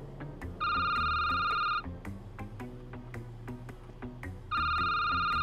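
An old-style telephone rings in the horror game The Security Booth, two loud bursts of electronic ringing separated by a pause, over scattered clicks and a low game ambience.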